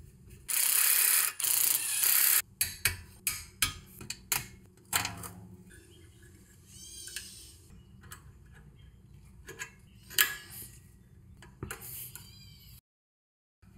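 A hand ratchet turning an H7 hex bit on the rear trailing arm of a BMW Z3 clicks in quick bursts, close and sharp, with short pauses and rubbing between the strokes.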